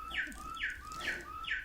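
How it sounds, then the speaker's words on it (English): A bird clock chiming with recorded bird song: four evenly spaced descending chirps, clear and moderately close over a faint room background. "There's the bird clock."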